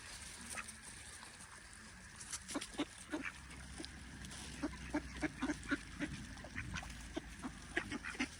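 Waterfowl calling near the water in summer, with repeated honks and quacks from geese and swans scattered through the whole stretch, at moderate distance over a steady outdoor background.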